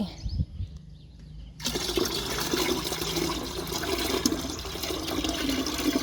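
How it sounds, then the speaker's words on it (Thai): Rice-washing water poured into a garden watering can, a steady close splashing and gurgling stream that starts after a short pause and keeps running, with no talking. "เดี๋ยววันนี้ก็จะเทลงใน บัวรดน้ำนะคะ"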